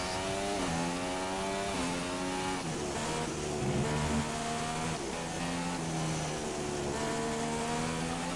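A Formula 1 race car engine in the F1 2016 video game screams at high revs, rising and falling steadily through gear changes during a qualifying lap, loud and continuous with no talk.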